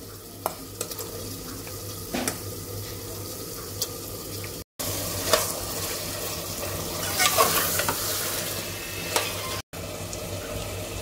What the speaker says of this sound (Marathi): आता आपण हे चांगलं चिकन तेलावर चांगलं परतून घ्यायचं